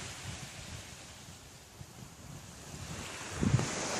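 Ocean surf rolls onto a rocky beach on a dark day, a soft wash of waves mixed with wind buffeting the microphone, with a slightly stronger surge near the end.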